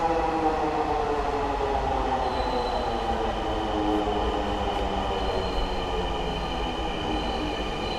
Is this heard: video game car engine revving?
no